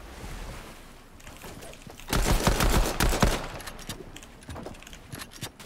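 Burst of rapid gunfire in the Fortnite video game, a dense cluster of loud shots in the middle with scattered single pops before and after against a low ambient rumble.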